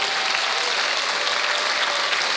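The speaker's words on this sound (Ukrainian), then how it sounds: "А а чого ви плескаєте?" Audience applause at a comedy show, a short, steady burst of many hands clapping, loud and even, with no talk.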